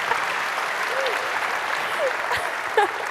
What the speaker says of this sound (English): applause for welcoming.